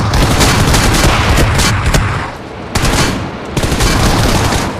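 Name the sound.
shotgun gunfire in BGMI video game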